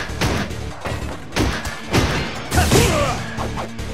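Rapid flurry of punch impacts from a Machine Gun Blow attack in a fighting video game, a string of loud thuds and smacks landing in quick bursts over busy game music and effects.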